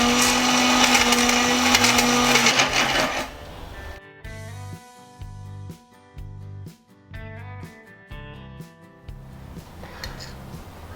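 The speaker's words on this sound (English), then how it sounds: "we'll prepare breadcrumbs using brown bread. And let's grind it." An electric kitchen grinder turns brown bread into breadcrumbs: a loud whirring grind runs steadily at first, then comes in short repeated pulses with brief gaps, close and without any talk.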